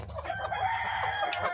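Native spotted black-and-white chickens cluck steadily at close range on a farm, with a brief crow-like call rising near the end, no voices present.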